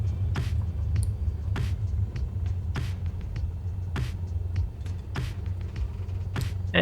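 Airliner in Microsoft Flight Simulator rolling along a runway toward the taxiway, a steady low engine rumble with periodic soft clunks and rattles, no talking.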